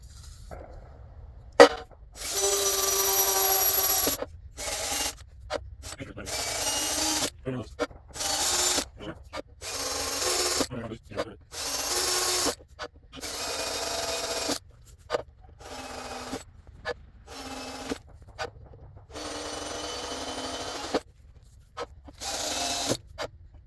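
Bursts of high-pitched grinding as a milling machine bit cuts a baseplate, starting and stopping repeatedly with short silent gaps between cuts.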